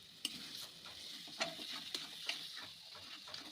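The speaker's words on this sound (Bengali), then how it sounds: "দই আর বেসনের ব্যাটারটা দিয়ে দিলাম। ভালো করে নেড়ে যেতে হবে" Yogurt and gram flour batter is stirred in a pan over the heat, giving a soft continuous sizzle with several light spatula scrapes and taps against the pan; quiet and close, with no talk.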